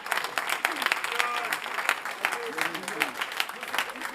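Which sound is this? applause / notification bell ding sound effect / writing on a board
applause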